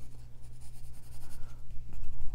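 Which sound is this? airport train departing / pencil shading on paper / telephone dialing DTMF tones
pencil shading on paper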